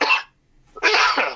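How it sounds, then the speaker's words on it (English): Two harsh coughs from one person, each short and loud and close, with a brief silent gap between them. "Sorry for coughing because it's the air from the ship."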